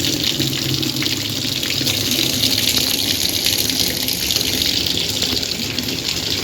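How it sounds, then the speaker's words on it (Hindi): A clothes washing machine runs in the early morning, water gushing and churning loudly and steadily throughout, close and unbroken, with no talking. "फिर मैंने चला दी थी मशीन कपड़ों की, कपड़े धोने के।"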